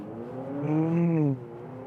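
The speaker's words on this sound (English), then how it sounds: "All right, back in sport mode. Let's accelerate." A Toyota RAV4 compact SUV on winter tires accelerates in sport mode, heard from inside as a smooth engine hum that climbs steadily in pitch, then eases off, with no talking.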